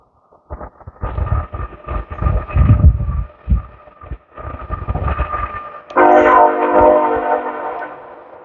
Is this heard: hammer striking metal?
no